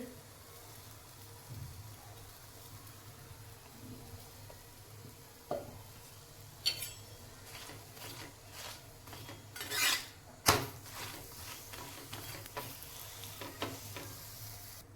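Oil goes into a pan and a paratha fries with a soft sizzle, joined by clinks and scrapes of utensils against the pan that grow busier toward the end, close and moderately quiet.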